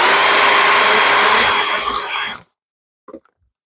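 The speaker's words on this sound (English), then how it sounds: "put them on a dowel, chuck them up in your drill, go through your grits" A power drill spinning wooden toy wheels on a dowel for sanding whirs loudly with a high grinding buzz for a couple of seconds, then stops, followed by a soft clunk.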